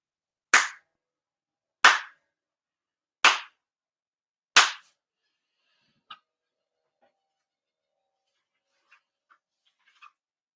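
Four ritual hand claps at a Shinto prayer service, sharp and evenly spaced about a second and a half apart in a quiet room, followed by near silence with faint small rustles.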